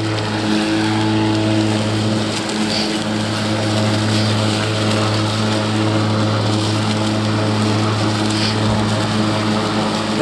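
A Stihl RMA510 cordless battery lawn mower runs continuously at close range, its steady motor and blade hum holding a constant drone as it mows grass.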